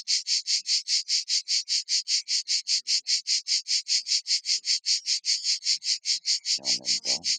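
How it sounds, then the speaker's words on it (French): Cicadas in Provence buzz in a fast, regular pulsing rhythm, loud and close, dozens of evenly spaced bursts running on without pause, with a brief low rustle or thump near the end. "c'est mes amis les cigales qui sont un peu bruyantes"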